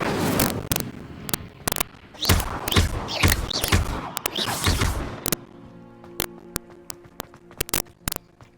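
Incendio fire spell cast in the video game Hogwarts Legacy: a loud burst of crackling, whooshing flame with dense thumps, then a string of sharp, evenly spaced pops and cracks that trail off.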